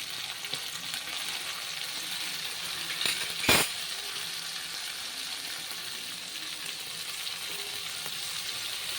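Tomatoes fry in a pan with a steady, even sizzle all the way through. A brief clink of a utensil cuts in near the middle, and no one speaks.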